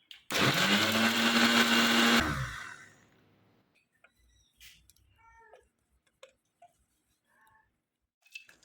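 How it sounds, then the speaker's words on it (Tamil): A mixer grinder whirs loudly for about two seconds as it grinds peeled ginger and garlic into a paste, then spins down into near silence broken by small clicks and a few faint kitchen sounds. "இஞ்சி பூண்டு தேவையான அளவுக்கு உரித்து நல்லா பேஸ்ட் ஃபார்முக்கு அரைச்சி வச்சுக்கோங்க"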